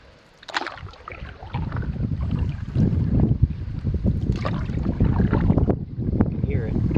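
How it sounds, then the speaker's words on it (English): Wind blowing over a lake during a solo August canoe trip in the Boundary Waters, a continuous rough buffeting rumble against the microphone with gusts swelling and easing. "Never know the wind was raging out there on the lakes."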